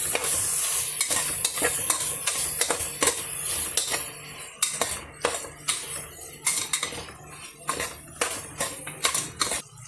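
Tomatoes and green chillies fry in a pan while a spoon stirs steadily, sending repeated metallic scrapes and clanks over a continuous sizzle, close by, with no one talking.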